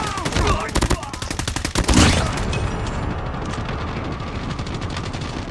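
Gunfire in the video game Call of Duty, loud rapid automatic bursts crackling close in, followed by a roaring wash of combat noise and echo.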